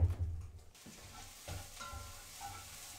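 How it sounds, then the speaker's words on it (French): Onions sizzle in a frying pan as they are stirred and scraped, a soft continuous hiss with a few scraping bumps, fairly quiet and close. "ce qu'on va faire, c'est qu'on va aller jeter nos oignons dedans."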